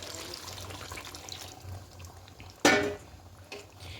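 Hot water is poured into spice-marinated chicken in a pan on the stove, heard as a sudden close splash and gush over a quiet kitchen background, then a smaller splash.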